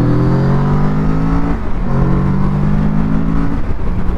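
A 2022 Kawasaki Z650 motorcycle engine droning steadily as it downshifts, its pitch stepping down between two held tones with a short dip in the middle, loud and continuous over wind rush.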